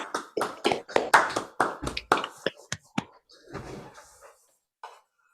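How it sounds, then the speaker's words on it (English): Participants in an online seminar clapping over unmuted microphones, a scattered run of sharp, uneven claps from several people that thins out into a few isolated ones and faint voices. "Let's do a round of applause if everyone can please unmute, and then I'll count to 3 and then we'll clap."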